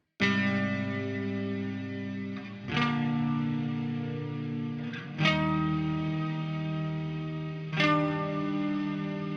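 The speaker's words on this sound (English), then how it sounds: "I really like this digital reverb here because it has a shimmery vibe to it" Sustained clean guitar chords through a digital reverb ring out with a shimmering, washy reverb tail, each new strum swelling into a lush, echoing wash.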